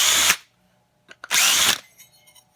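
A power drill drives screws through pilot holes drilled with a 1/8 inch bit, sounding in two loud, close whirring bursts with a few small clicks and handling noises in the pause between them.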